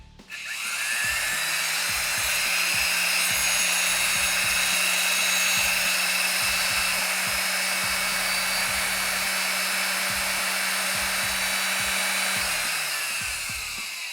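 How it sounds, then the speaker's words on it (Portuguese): A universal motor plugged into household AC mains spins at very high speed, giving a loud, continuous, high-pitched whine with a raspy brush hiss that holds steady for about twelve seconds before slowing at the end. "Se ligarmos esse motor em corrente alternada, ou seja, na tomada da sua casa, o motor vai funcionar dessa forma com uma rotação muito grande."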